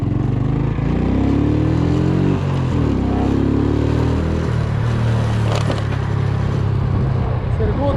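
A Glovo courier's delivery motorbike drones steadily while riding, its low engine hum continuous and close throughout with some rushing road and wind noise, and a voice is faintly present underneath.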